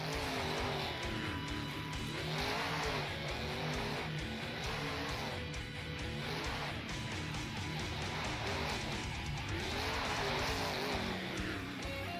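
Megalodon monster truck whipping around an arena track at a Panama City event, engine roaring loud and continuous with rising and falling revs over crowd noise.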